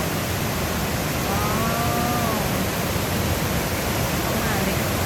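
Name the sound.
waterfall at Chet Sao Noi National Park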